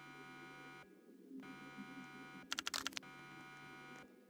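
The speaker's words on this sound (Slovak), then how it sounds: "Nejaký alarm, že vraj?" An alarm buzzer in the Roblox break-in story game drones in steady electronic bursts that cut on and off, with a quick run of sharp pulses in the middle, over low voices.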